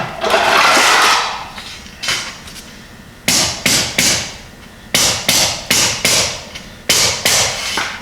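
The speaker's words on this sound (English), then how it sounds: "take my hammer. I'm just going to tap these down a little bit." A hammer taps down wire mesh supports over foam for a concrete floor in a pole barn, with sharp, close strikes in quick clusters of three or four, separated by short pauses, after an opening rustle.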